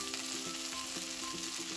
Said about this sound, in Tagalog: piniprito-prito ko lang itong kamatis